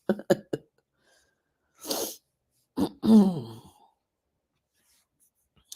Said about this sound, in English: I keep clearing my throat here